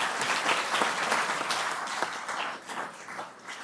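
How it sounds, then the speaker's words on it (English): An audience at a product management conference keynote gives a quick burst of applause, dense clapping from many hands at steady loudness that tapers slightly toward the end, with no voices over it. "We get a little quick round of applause for them"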